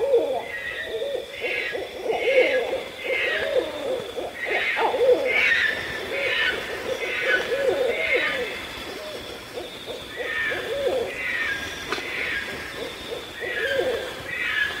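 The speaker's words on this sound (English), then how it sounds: "Eastern grass owl." An Eastern grass owl calls over and over in the wild, a series of wavering hoots and raspy chirring notes repeated steadily over several seconds against faint background hiss.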